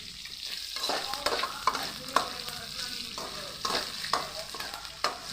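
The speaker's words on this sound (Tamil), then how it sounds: "அந்த மாதிரி நீங்கள் இதை போட்டு வதக்கிக்கணுங்க." Garlic with chana dal and urad dal sautéing in hot oil for kara kulambu, a steady close sizzle with a spoon stirring and scraping the pan in repeated strokes.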